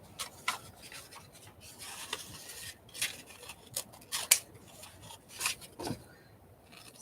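Scissors trim the straggly edges of paper in a series of short, crisp snips spaced irregularly, close and fairly quiet, with light rustling of paper between cuts and no talking.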